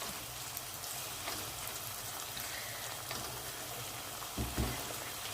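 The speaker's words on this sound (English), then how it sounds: "And while it's boiling down," A prawn linguine sauce reducing in a pan: a steady, even sizzle and bubbling hiss that holds for several seconds, with a few brief clinks or stirs near the end and no talking.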